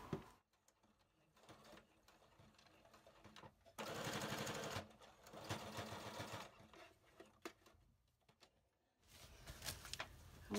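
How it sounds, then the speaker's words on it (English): A sewing machine stitches fabric in several bursts of rapid mechanical chatter, the longest run loud and close, separated by quiet pauses with small handling clicks. "I'm gonna take it to the sewing machine."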